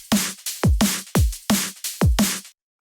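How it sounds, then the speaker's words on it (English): A punchy drum and bass loop built in FL Studio: deep kicks with falling pitch alternate with crisp snares over hi-hats and ride, five tight hits in a fast, driving pattern before it cuts to silence. "and then together the drum loop sounds like this."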